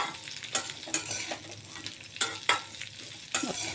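Seasonal vegetable for pickle being mixed in a sizzling pan, a few sharp scraping strokes and clinks of the spatula against the metal over steady frying hiss, close and without speech.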